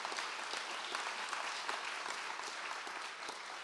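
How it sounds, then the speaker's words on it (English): Steady, dense audience applause for author Scott Turow at a public conversation event, a continuous even wash of many hands clapping at moderate distance, quiet in level and with no one speaking. "please, one more round of applause, please, for Scott Turow"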